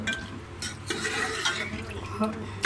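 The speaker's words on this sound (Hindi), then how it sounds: "अब हम इसकी कुछ देर तक करेंगे बुनाई" Spiced goat intestine (ojri) curry roasts in a pan, with close, repeated scraping and stirring strokes over a soft background sizzle and occasional metallic clinks.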